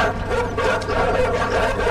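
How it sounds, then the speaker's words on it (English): Dogs barking and attacking in the side-scrolling video game INSIDE, a dense, continuous growling and barking texture held at steady loudness for about two seconds. "The dogs are attacking me."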